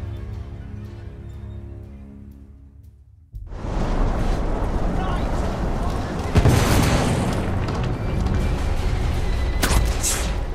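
Heavy explosion aboard the ship Agamemnon in The Order: 1886, a sudden loud boom after a quieter stretch, followed by a sustained roaring rumble with further bursts and crashes and some talk mixed in.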